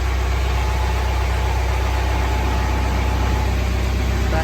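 A John Deere 4066R compact tractor engine runs at a steady low idle while creeping very slowly, a constant close droning hum with faint vibration and no voices.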